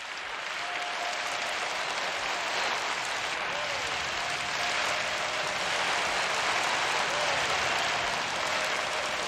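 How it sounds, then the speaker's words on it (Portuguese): A church congregation applauding at a revival service, a sustained dense wall of clapping from a large crowd with faint tonal organ or voice lines underneath, steady and loud throughout. "Dê uma salva de palmas ao Senhor."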